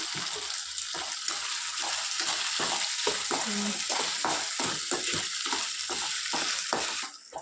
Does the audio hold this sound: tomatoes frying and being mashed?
yes